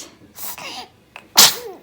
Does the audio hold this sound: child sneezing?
yes